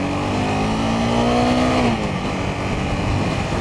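A Honda CBR 250R single-cylinder motorcycle accelerates loudly and continuously up close. Engine pitch climbs steadily, then drops as it shifts, with rushing wind noise around it.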